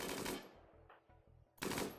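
Machine gun combat fire in the Rimworld video game, with dense bursts opening and closing a short stretch of separate, evenly spaced shots, crisp and loud.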